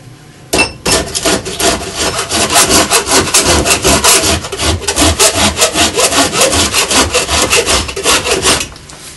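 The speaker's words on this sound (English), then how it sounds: "Now it's just a matter of getting in there with a file and getting it really smooth." Close, steady rasping of a hand file smoothing a yew and ash Windsor chair part, a fast run of even back-and-forth strokes that starts abruptly and carries on without a break, with no talk.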